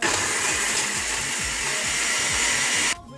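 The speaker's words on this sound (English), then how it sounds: "I'm going to drop it in the blender. It's frozen" A blender roars loudly and steadily for about three seconds, its motor grinding through frozen pepper with a rough, chunky rattle underneath, then cuts off abruptly.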